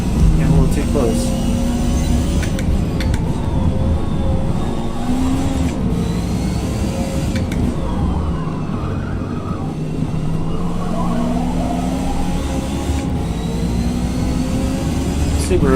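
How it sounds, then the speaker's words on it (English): A Subaru race car in the Forza Motorsport video game accelerates with a continuous engine drone and shifting pitch, while people talk over it throughout. "Subaru accelerates, doesn't it?"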